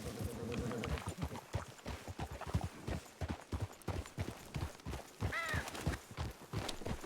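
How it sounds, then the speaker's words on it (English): Horse hooves clatter at a steady trot in a Western-themed video game, rapid rhythmic clip-clop beats throughout, with a brief whinny-like sound near the end. "We must obey the trot at all times."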